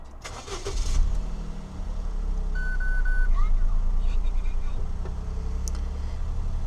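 A 2013 Suzuki Spacia Custom TS turbo kei car starts up: a brief starter burst settles into a steady low engine idle, with a short electronic chime and soft mechanical whirring over the running motor.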